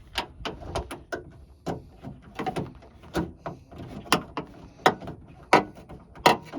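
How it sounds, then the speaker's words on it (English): A number 10 ratchet loosening a bolt on the door of a 2007 Kia Sorento during latch repair, giving a series of sharp, close mechanical clicks in irregular bursts with short pauses between them. "So this is a number 10 ratchet here."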